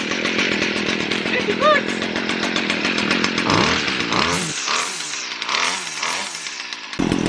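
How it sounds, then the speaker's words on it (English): A gas weed whacker string trimmer runs outdoors in cold weather, a loud close two-stroke buzz that rises and falls with throttle changes, with a person speaking briefly over it. "So as you can see, the Weed Whacker runs really good."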